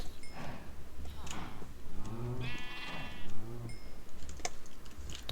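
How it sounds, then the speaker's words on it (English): Sheep bleating in the Minecraft video game, several wavering cartoonish bleats in the middle amid clicking keys and game noises, fairly close and moderately loud. "Fresh new sheeps."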